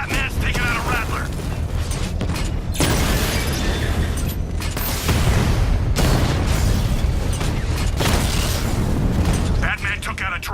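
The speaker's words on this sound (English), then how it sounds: "Batman's taking out a Rattler" Explosions and mechanical blasts as Batman takes out a Rattler tank in the Batman Arkham Knight video game, a loud continuous barrage of booms and bursts with game voices talking over it.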